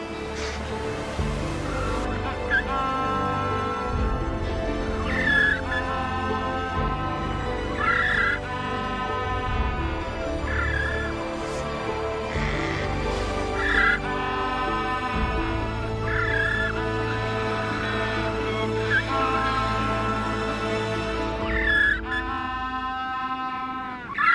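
A dense seabird colony on a beach in the Atacama Desert calls continuously to partners and chicks, with overlapping harsh, wavering cries rising and falling in many layers, loud and close, with no talk.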